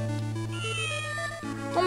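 A cat meows in the video game Tales of Phantasia, a short mewing cry that rises near the end over steady, loud game background music.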